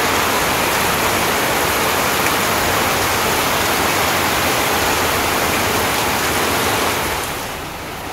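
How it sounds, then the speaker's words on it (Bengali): Sudden heavy rain in a storm on the day of Mahalaya, a loud, dense, continuous roar of downpour that eases slightly in the last second, with no talk. "হঠাৎ করে কি জোরে বৃষ্টি শুরু হয়ে গেছে, একদম ঝড়ে বৃষ্টি পড়ছে"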